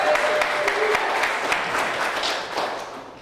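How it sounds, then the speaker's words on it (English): A crowd at a gun buyback crowdfunding event gives a steady round of applause, many hands clapping close and evenly before fading slightly toward the end. "Let's give him a round of applause."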